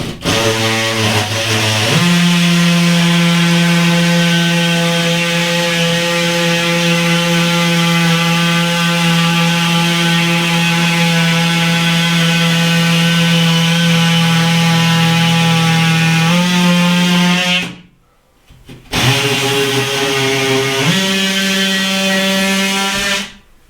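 A loud power tool cuts a window opening in a drywall sheet, a steady high whine with a droning tone running nearly unbroken, a brief stop near the end, then revving up again.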